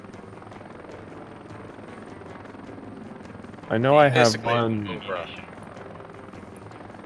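Helicopter flying in the video game Heliborne, a tier 3 machine, a steady low rotor drone running under a voice, which rises for a few seconds in the middle.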